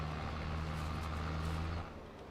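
A tractor engine in Farming Simulator 22 runs rough with a deep, continuous droning rumble and steady low hum, close and fairly loud, easing slightly toward the end.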